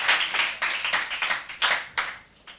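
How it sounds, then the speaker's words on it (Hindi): Audience applause at a Ramadan quiz show for children, with a short burst of clapping hands that swells and then fades over a few seconds, heard alone. "इनके लिए भरपूर तालियाँ होनी चाहिए"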